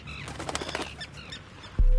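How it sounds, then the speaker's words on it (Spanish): A purple swamphen bathing at a lagoon near Puente Genil, Córdoba, splashes and flutters its wings in quick close patters, followed by a sudden loud thump near the end. "El calamón mantiene sus plumas en perfecto estado con un buen baño."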